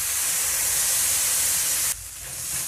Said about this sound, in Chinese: 倒进原汤，煮猪蹄的汤。